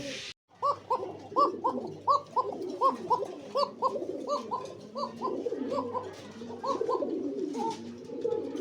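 Black racer pigeons cooing close by in a repeated series of soft throaty calls, a steady rhythmic run with faint background noise.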